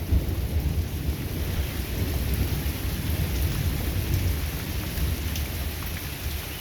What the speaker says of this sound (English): Just rain. Lots of rain, a little bit of thunder.